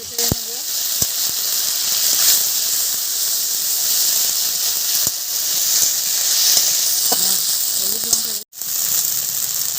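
Ground paste of onion, ginger, cumin and garlic hisses and sizzles steadily in a hot pan for a fig curry, with faint scraping stirs now and then and a brief dip near the end.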